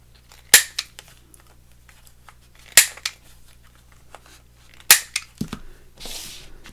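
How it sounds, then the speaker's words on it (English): Scissors snipping the corners off a junk-journal card: four sets of crisp, close cuts, each a sharp snap followed by one or two smaller clicks, with quiet pauses between and a soft paper rustle at the end. "So let's cut the corners off on this again, and then we'll ink round it."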